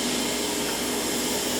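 A Sitek wafer processing machine handling a thin silicon wafer runs with a steady, even whirring hum, continuous and moderately loud throughout with no talk.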